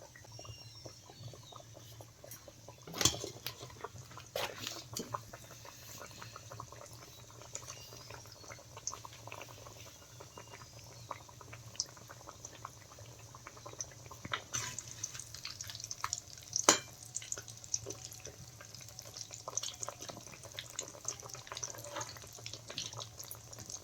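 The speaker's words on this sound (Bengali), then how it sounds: "এবার ভেজে নেব তেল গরম হয়ে গেছে এবার মাছগুলি দিয়ে দেবো" Coated bhetki (barramundi) fish pieces fry in hot oil over medium heat, giving a steady, faint bubbling hiss with scattered crackles and a few sharper pops throughout.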